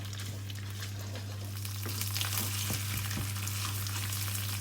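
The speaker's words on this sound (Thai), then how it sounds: "แล้วก็ผัดใส่กับน้ำมันกับพริกแกง" Steady sizzling of curry paste frying in hot oil in a wok, with soft scraping stir strokes and a constant low hum underneath.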